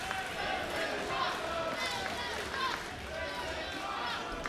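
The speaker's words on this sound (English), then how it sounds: "You hear the crowd, Veda." Crowd noise fills a college hall during a wrestling show, loud and sustained with rising swells of cheering and a few shouts, steady under the din throughout.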